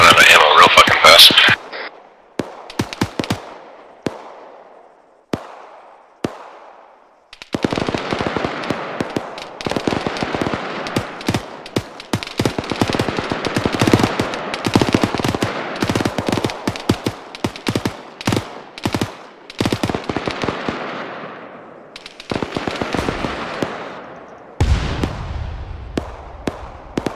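Gunfire in the video game Arma 3, with rapid bursts of automatic fire and single sharp shots cracking in irregular clusters over nearly half a minute, some near and loud, others fainter, with voices talking over radio in between.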